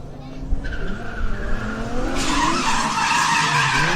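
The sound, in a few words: drift car tires skidding during a half spin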